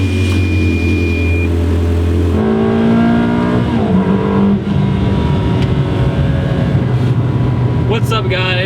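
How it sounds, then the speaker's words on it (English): A 2003 Ferrari 360 Modena with a Tubi exhaust cruising on back roads, its engine droning loudly and steadily from inside the cabin, with a shift and rising revs partway through and a voice talking over it. "Today I'm in a 2003 Ferrari 360 Modena. I am currently cruising down some back roads."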